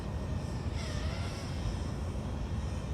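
A DJI FPV drone flies over a lake, a steady, broad rushing propeller whir with a faint rising whine partway through, constant and moderately loud throughout.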